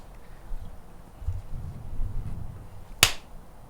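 A single sharp hand clap rings out crisply near the end, after a stretch of low rumbling background noise.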